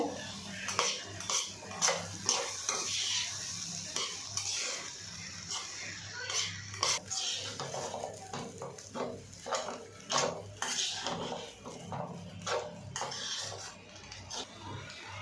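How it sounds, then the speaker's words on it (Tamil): Avalakki chitranna (flattened rice) being stirred in a pan over a slow flame, a busy run of close metal spoon scrapes and clinks against the pan repeating steadily throughout. "ஸ்லோ ஃப்ளேமில் வச்சு ஃபுல்லு மிக்ஸ் பண்ணி விடுங்க"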